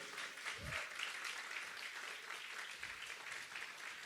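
Applause from a church congregation, broad and steady throughout, fairly faint and distant in a large room.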